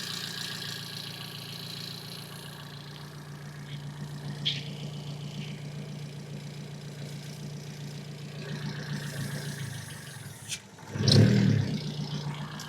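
An engine idles with a steady hum, builds slightly, then revs up sharply near the end in a loud, throaty burst.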